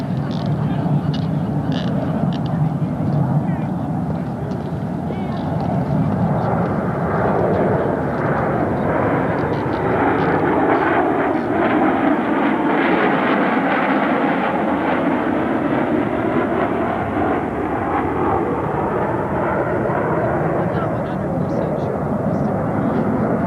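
A B-2 bomber with landing gear extended flying by at an Edwards AFB air show, a loud continuous jet roar that swells and shifts in pitch over about twenty seconds, with a commentator talking over it.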